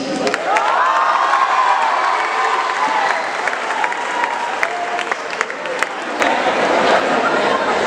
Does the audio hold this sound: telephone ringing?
no